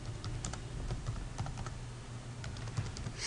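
Quiet, steady clatter of keys on a computer keyboard as C++ code is typed, a continuous patter of light clicks with no talking.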